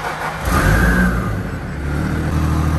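A Toyota 80 Series 4x4 fitted with a new airbox and snorkel starts up, the engine catching with a loud rising rev and then settling into a steady close-up idle.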